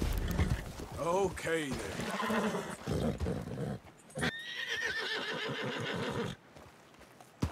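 Horse whinnying and hoofbeats in the open-world Western game Red Dead Redemption 2, a loud neigh near the start, clopping steps and in-game noise, with someone talking briefly.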